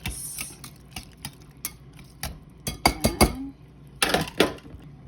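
A utensil clinks and scrapes against a bowl while onions and spring onions are mixed with anchovies for tortang dilis, a few scattered knocks followed by a louder burst of clattering near the end.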